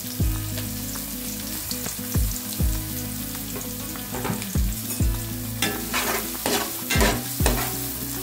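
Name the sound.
finely chopped onion frying for gobi fried rice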